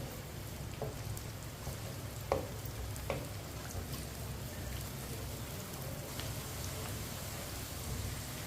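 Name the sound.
chopped onion frying, stirred with spoon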